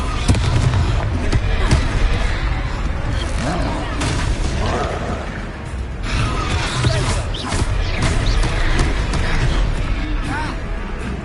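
Spell blasts from the Confringo fire spell in the video game Hogwarts Legacy, loud, repeated bursts and booms over a constant battle din, with voices talking throughout.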